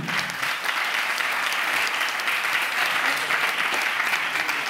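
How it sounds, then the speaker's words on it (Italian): Loud, sustained applause from a large audience at a stand-up comedy show in Italy, steady clapping throughout with no voices standing out. "Fate un applauso che ci ha dato speranza!"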